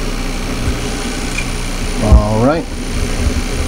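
A Sony CV-2000D reel-to-reel video recorder's motor runs with a steady mechanical whir and hum close by, with a rising and falling tonal whine midway and a brief spoken remark.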